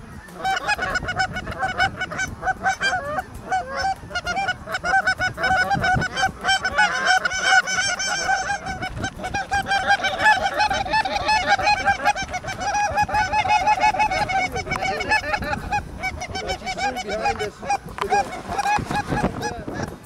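A flock of geese honks loudly and continuously out in the field, many overlapping calls forming a dense, steady chorus with no talk.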